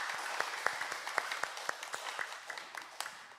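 A church congregation applauds the orchestra after a Sunday worship service, a steady crowd of clapping with sharp individual claps standing out over a few seconds.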